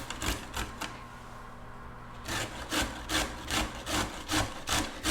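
Raw cauliflower florets are grated by hand, making close, rhythmic rasping strokes in quick succession, briefly pausing before the scraping resumes at a steady beat.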